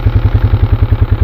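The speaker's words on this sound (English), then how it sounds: "I'm going to scoot the Mavic back a little bit." DJI Mavic quadcopter drone hovering close by, a loud, steady pulsing motor drone with rapid rhythmic throbbing throughout, no talk.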